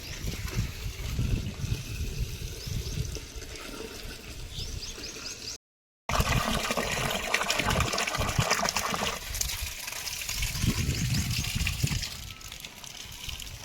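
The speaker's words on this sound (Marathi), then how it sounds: "याच्यामध्ये आता आपण पाणी भरून घेणार आहोत" A pot is filled with water for boiling potatoes, a loud, continuous gush from a flowing stream into the vessel, briefly cut off in the middle and then resuming until it eases near the end.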